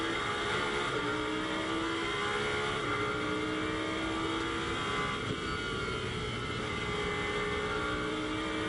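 A Lamborghini Super Trofeo race car at the Nürburgring, heard onboard as it pulls out of a corner uphill in second gear, its engine a loud, continuous rising drone with shifting pitch and no talk.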